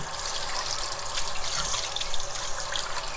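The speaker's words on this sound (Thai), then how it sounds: "ล้างให้ ซอกเล็บนะคะ ซอกมือต่าง ๆ" Hands washed under a running tap, a steady hiss of flowing water splashing into a sink at close range, alone without any voices.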